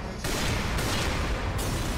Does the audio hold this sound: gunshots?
yes